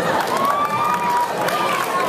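A convention audience at an anime cosplay event claps and cheers steadily for a costume, a dense, continuous wash of applause with a host's voice running over it.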